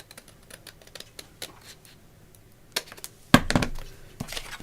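Scissors snip a corner off a paper tag for an Edith Holden lapbook, with a few soft rustles and one sharp, close cut near the end, followed by brief handling noise.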